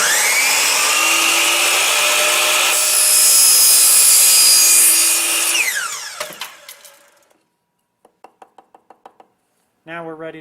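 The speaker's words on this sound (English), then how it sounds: "We're going to go ahead and let the saw rev up to full speed, and then we're going to slowly cut through the extrusion." A saw fitted with a carbide-tooth blade spins up and cuts through an aluminum LED extrusion, giving a loud, close, sustained high whine and screech for about six seconds. The blade then winds down, followed by a series of light clicks and knocks.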